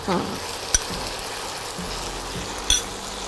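Shrimp paste being stirred in a pan, a steady close frying sizzle with a couple of sharp clinks of the spoon against the pan.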